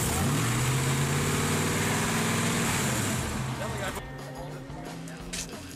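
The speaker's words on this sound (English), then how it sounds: "the magazine boys take the Tour Rat out for its first spin" Engine of a 1960 Plymouth station wagon converted into a rat rod pickup drones steadily while driving, then drops off and thins near the end, heard under talk.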